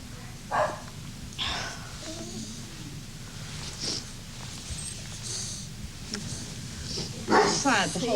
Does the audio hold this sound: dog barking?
yes